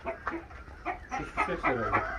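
A Sussex hen on a Turkish farm giving a short run of clucks and throaty calls, close by, with faint background noise.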